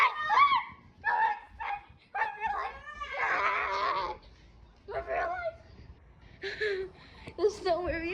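A dog whimpers, yips and gives short whining barks in close, irregular bursts during a thunderstorm, mixed with a person talking nearby; no thunder stands out.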